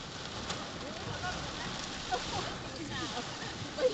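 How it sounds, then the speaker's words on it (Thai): Hail pelts a car during a hailstorm in Chiang Rai, a faint, steady rattle of small impacts on the vehicle's front with occasional sharper knocks, heard from inside. "มันตกไปหน้ารถเหมือนข้าวตอกแตก"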